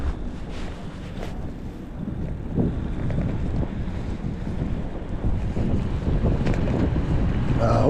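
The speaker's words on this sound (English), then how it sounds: "Very windy." Heavy wind buffets the microphone during a cold e-bike ride through Hawthorne, New Jersey, a constant low rumbling roar with gusty swells throughout and no clear talk.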